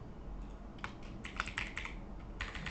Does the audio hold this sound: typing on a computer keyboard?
yes